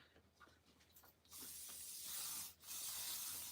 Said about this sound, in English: So I always just spray it.